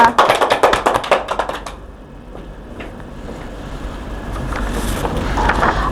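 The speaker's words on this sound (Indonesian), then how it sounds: "Beri aplaus dulu dong kepada Repka." A classroom of students claps for a classmate, a loud burst of quick overlapping handclaps for about two seconds that fades into room murmur and rustling.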